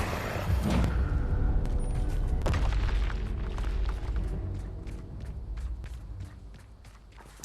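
Confringo explosion spell cast in the video game Hogwarts Legacy, a heavy low boom near the start and another at about two and a half seconds, followed by rumbling debris and a series of quieter thuds that fade.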